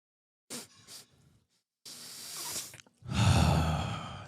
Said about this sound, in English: Let's take a brief breath break real quick.